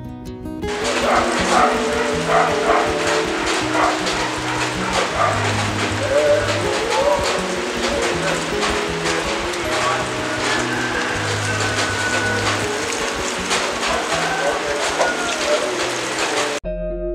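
Steady rain falls for most of a day on Mount Latimojong in the rainy season, a dense continuous hiss of drops with scattered closer taps, with low sounds underneath throughout.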